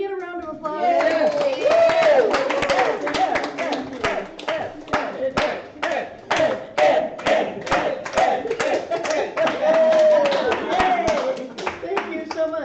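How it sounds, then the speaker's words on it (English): Applause from a church congregation at a Sunday Mother's Day service: dense, steady clapping fills the room and stays loud throughout, with a few voices calling out and chattering over the hands. "can we get a round of applause?"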